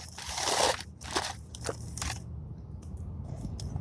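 Crunchy, still-warm french fries chewed close to the mouth, a loud burst of crisp bites followed by several sharp irregular crunches that fade into quieter chewing.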